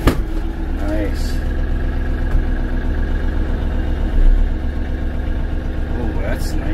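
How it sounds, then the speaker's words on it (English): A Kioti NS6010 HST cab tractor engine idles with a steady low diesel rumble close by, a loud even throb under the cab along with small clicks and a beep, while someone talks over it. "I'm just idling."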